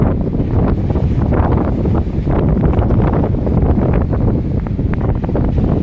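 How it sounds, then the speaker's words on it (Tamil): Strong wind buffets loudly and continuously beneath Pamban Bridge, a dense roaring rush with no pauses. "இன்னைக்கு காற்று கொஞ்சம் ஹெவியாக இருக்குது"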